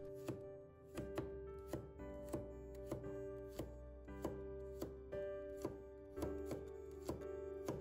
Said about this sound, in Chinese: 准备多一点大蒜，把大蒜切片。